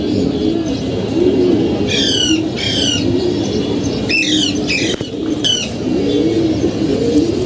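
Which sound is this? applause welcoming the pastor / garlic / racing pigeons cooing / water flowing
racing pigeons cooing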